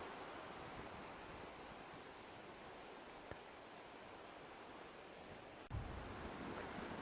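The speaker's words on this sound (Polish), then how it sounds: "No już słychać, wiatr się wzmaga." Wind at a summer forest camp in Noteć Forest, Poland, as a storm approaches, rushes in a steady broad whoosh, like distant surf, growing slightly stronger near the end with a brief gust thump.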